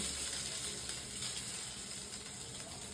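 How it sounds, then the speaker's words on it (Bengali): Chow mein reheating in a little oil in a pan gives a steady, soft hissing sizzle, faint and continuous for a few seconds. "এই যে চাউমিনটা গরম করে নিই"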